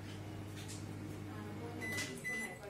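A Morphy Richards 30 L convection microwave oven, the 30 MCGR Deluxe in black, starts up with a low, steady electrical hum and short beeps near the end. A voice speaks faintly nearby.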